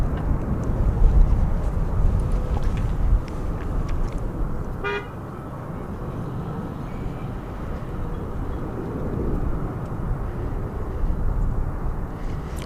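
A jet airliner bound for Philadelphia taxis at Dallas Fort Worth airport, heard as a broad, steady engine rumble at a distance, with a brief tonal horn-like note midway.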